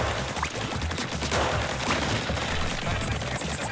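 Ink weapon firing in Splatoon 3, a rapid stream of wet splattering shots that is loud and continuous, with game music underneath.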